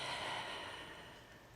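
A soft, breathy exhale during a gentle forward stretch over the front leg, one quiet airy breath that fades slowly and sits close.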